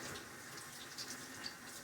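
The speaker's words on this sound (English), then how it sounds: "I'm just going to give it a quick little rinse." Tap water runs into a jar as it gets a quick rinse at a kitchen sink, a soft, steady hiss of flowing water with a couple of faint clinks, fairly quiet and without speech.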